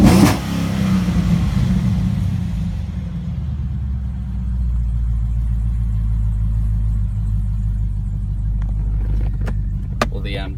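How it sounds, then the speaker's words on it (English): A 2013 Holden Commodore SS-V with a loud exhaust is revved nearby: a sharp blip at the start, then a deep, steady throaty idle rumble that carries on alone for several seconds. "So as you can hear, it does have quite a loud exhaust on it."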